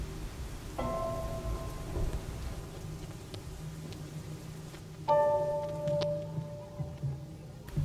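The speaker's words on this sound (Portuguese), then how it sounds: "Chuva muita castiga a plantação." Heavy rain pours steadily over crops while thunder rumbles low, with a couple of brief tonal sounds rising above the downpour.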